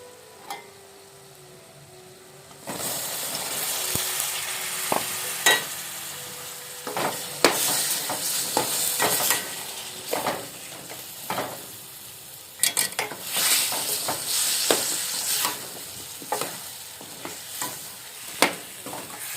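Young jackfruit pieces frying and sizzling in a pan as they are stirred, with repeated scraping and clinking of a spoon against the pan over a steady sizzle; no one speaks.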